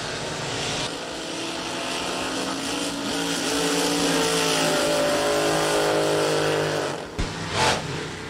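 Drag boat roaring down a racetrack, a loud sustained engine howl holding steady for several seconds before a sharp drop near the end.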